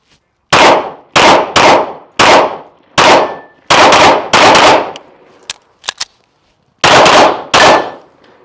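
A PSA Dagger pistol fires during a USPSA match, loud and close, in a rapid string of about nine sharp shots with brief pauses between groups. Faint metallic pings of hit steel targets follow mid-string.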